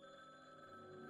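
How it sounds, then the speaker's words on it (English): A telephone rings in the video game Downfall, a faint, steady electronic ring heard briefly and alone. "That's the phone."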